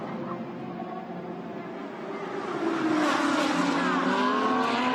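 GT race cars at Fuji in a Blancpain GT World Challenge Asia race, engines roaring toward the finish, building from a steady drone to a louder, rising engine sweep as cars pass near.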